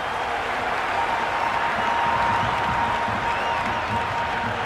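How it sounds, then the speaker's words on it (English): A cricket crowd in an IPL match between Rajasthan Royals and Mumbai Indians cheering and applauding after a hat-trick wicket, a sustained dense roar of clapping and shouting with no single voice standing out. "And the crowd erupts"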